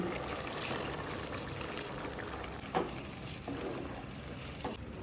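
Steady splashing pour of water into a pressure cooker holding soaked rice and black-eyed peas, continuous and close, with a few soft knocks partway through.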